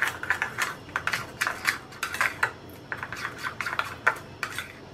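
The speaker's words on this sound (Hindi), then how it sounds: "1 पिंच नमक, नमक ज्यादा नहीं डालना है। मिक्स कर लेते हैं।" A spoon stirs homemade pizza sauce with red chilli powder and a pinch of salt in a bowl, giving a quick run of close, light clinks and scrapes in an irregular rhythm.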